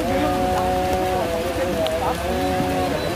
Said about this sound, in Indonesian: Hujan. Hujan, guys.